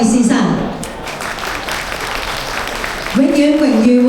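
An audience claps at an auto battery and tyre trade association's inauguration ceremony as an honorary president is welcomed to the stage, a broad wash of applause sitting between a voice speaking at the start and end.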